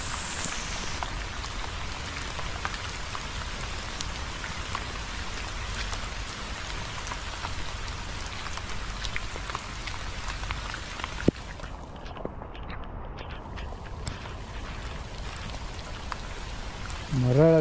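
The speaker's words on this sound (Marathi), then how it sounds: "एवढा प्रचंड पाऊस चालू झाला की आता कदाचित आपल्याला थांबावंच लागणार होतं." Heavy monsoon rain pours down steadily during a fishing outing, a dense, unbroken wash of drops close by with no voices heard.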